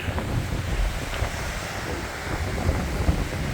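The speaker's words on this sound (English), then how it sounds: "it is just too windy" Strong November wind at Crisp Point Lighthouse roars and buffets the microphone continuously, a heavy low rumble with gusty surges throughout and no voices.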